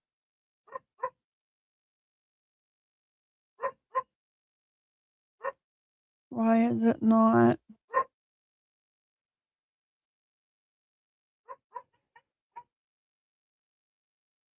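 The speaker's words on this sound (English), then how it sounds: "And what is the only reason she barks? That dog out there." A pet dog indoors barking at another dog outside, short single and paired barks scattered across a quiet room, with a burst of louder barking in the middle and a person speaking briefly.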